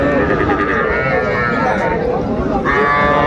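Calves and cattle at a busy livestock market, the Ambari cattle market in Dinajpur, heard as a dense, continuous din of crowd voices and animal sounds, with people talking throughout.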